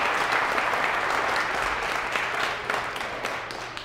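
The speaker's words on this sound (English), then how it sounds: "Another round of applause for all of our students and graduates of the START and START Quality program." Sustained applause from a graduation audience honoring students and graduates of the Tesla START and START Quality training program, a dense, even wash of clapping that holds steady before tapering slightly toward the end.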